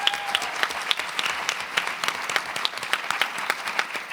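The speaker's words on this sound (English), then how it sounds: "Give him an applause, right?" Conference audience at a 2023 Rare Disease Week event gives warm applause, a full room clapping with distinct individual claps popping through, steady for several seconds.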